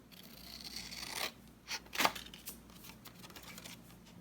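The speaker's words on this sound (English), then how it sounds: "I have to cut a bit of this off as well." A few quick, faint snips and rustles as a piece is cut off for a planner journal, with soft paper handling between the cuts in a quiet room.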